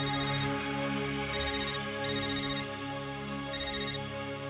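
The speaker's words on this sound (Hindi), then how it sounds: "दीदी, ममता का फोन" A telephone rings in a Hindi family drama, sounding as repeated bright electronic ringtone bursts over a steady background hum, with no talk.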